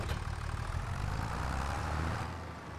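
A tractor engine idles in the Farming Simulator 25 video game, a steady low rumble that holds evenly and fades slightly at the end, with no talk over it.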